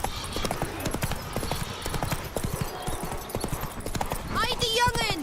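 Horse Roach galloping in The Witcher 3, rapid rhythmic hoofbeats throughout, close and steady, ending in a whinny, with a voice speaking over it.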